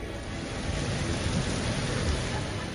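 Heavy monsoon rain pours down steadily in Hafizabad, a dense continuous hiss with no pauses or voices.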